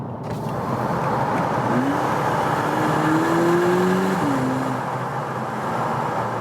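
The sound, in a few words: car engine heard from inside cabin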